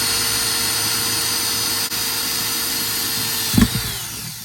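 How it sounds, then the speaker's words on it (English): A Parkside power drill whines at a steady high pitch drilling a hole in metal, running continuously, then catches and stutters briefly near the end as it winds down. "Drill a hole"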